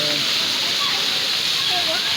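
Steady, loud rush of flowing and splashing water at a splash park pool, a continuous broadband wash with faint voices underneath.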